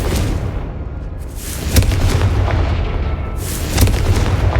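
Confringo blasting spell explosions in the game Hogwarts Legacy boom heavily amid rumbling combat, two strong bursts standing out over a loud, continuous low roar.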